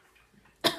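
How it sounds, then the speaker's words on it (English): A single short, sharp human cough bursts out at the very end after near silence, close and fairly loud. "Now it's making me cough."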